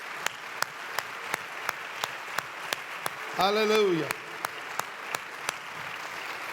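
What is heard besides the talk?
congregation applauding in church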